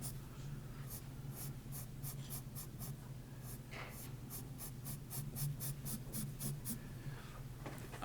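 Charcoal pencil shading on paper: a steady run of quick, rhythmic scratchy strokes, close and fairly quiet, continuing for several seconds over a low background hum, with no talk.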